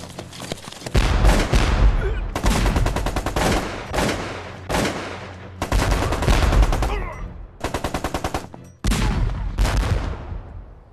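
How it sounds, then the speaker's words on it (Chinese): Loud, close battle gunfire from Japanese troops in an anti-Japanese war drama: repeated bursts of rapid machine-gun and rifle fire with heavy booms, separated by brief gaps, and no talking. "这是皇军的炮声，你们被包围了"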